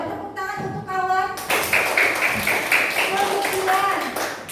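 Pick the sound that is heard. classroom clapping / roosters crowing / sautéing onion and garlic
classroom clapping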